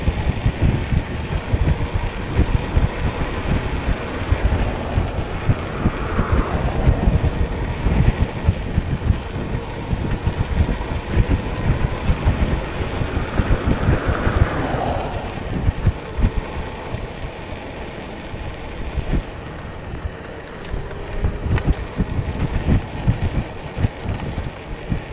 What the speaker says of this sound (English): It's definitely a little breeze. More like a headwind.